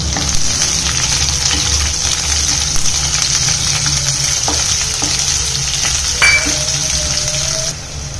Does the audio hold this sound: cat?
no